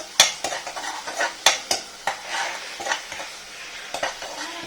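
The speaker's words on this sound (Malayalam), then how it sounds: "നമുക്ക് ഇളക്കി കൊടുക്കാം." A spoon stirs ginger curry with jaggery in a pan, scraping and clinking in a loose, irregular rhythm of sharp taps over a faint background sizzle.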